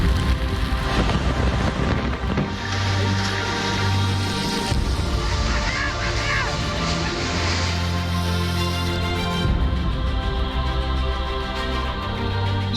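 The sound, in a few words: heavy rain and wind of Cyclone Nisarga in Mumbai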